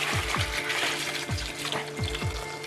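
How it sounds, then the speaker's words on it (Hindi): Water pouring steadily into an ozonizer fruit and vegetable washer, a continuous splashing rush with repeated low gurgling thumps as it fills. "इसमें अभी हम लोग पानी डालेंगे।"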